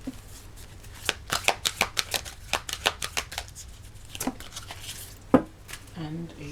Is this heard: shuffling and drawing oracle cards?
yes